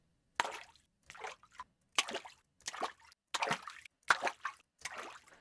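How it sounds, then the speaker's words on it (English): Water footstep sound effects splash and plop in turn, seven separate wet steps with short gaps between them, close and clear with no other sound. "Grab these water footsteps"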